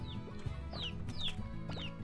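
Chickens clucking in the farming game Slime Rancher, several short descending clucks repeating at a steady pace over a busy low background hum.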